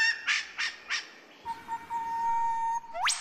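A lyrebird mimicking a parrot in a tropical rainforest: three loud squawking calls in a quick rhythm, then a long steady whistled tone ending in a sharp rising whistle, close and alone.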